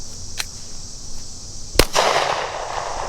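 A gunshot at an outdoor shooting range from a 10mm Glock pistol or AR-15 rifle: a faint pop, then one sharp, loud crack followed by a lingering noisy tail.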